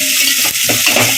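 Onion and garlic sautéing in a pan, a steady, fairly loud sizzle with faint stirring scrapes throughout the short stretch.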